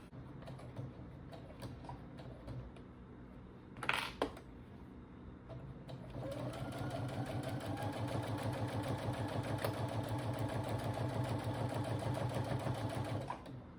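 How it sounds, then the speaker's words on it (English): A sewing machine stitches a tote bag with beige thread and straps; after a quieter start, a steady rapid mechanical whir runs continuously up close with no talking. "we're gonna go ahead and sew it together."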